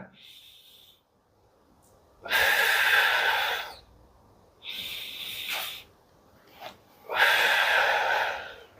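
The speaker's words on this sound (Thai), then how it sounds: "หายใจเข้า หายใจออก หายใจเข้า" Deep, loud breaths in and out repeat slowly during a physiotherapy exercise after spinal surgery, three long breathy rushes with quieter pauses between them and no talk.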